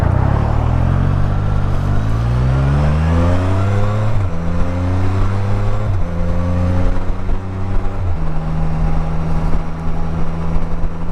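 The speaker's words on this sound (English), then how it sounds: "Whatever that little pre-muffler is, it does sound good." Harley motorcycle with a small pre-muffler revving hard, loud and close, the engine note climbing repeatedly through several gear changes with a deep throaty exhaust rumble, no talk over it.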